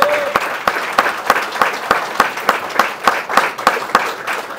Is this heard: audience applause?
yes